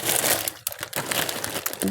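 A plastic bag stuffed with yarn, mostly denim-type, crinkles and rustles loudly and close up as it is handled, in a few quick bursts of crumpling.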